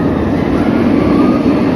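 The Vortex stand-up roller coaster train at Carowinds rumbles loudly and steadily along its track, a close, continuous low roar with a rattling texture throughout the brief moment.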